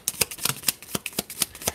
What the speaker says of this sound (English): I'm going to shuffle it into the deck.